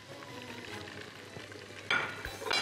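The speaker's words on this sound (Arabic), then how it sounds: "تشويحه برضو بسيطه كده مش كتير" Shrimp sauté with onions in a pan, a soft steady sizzle with light stirring scrapes, then sharper clinks and a louder hiss as the food is moved.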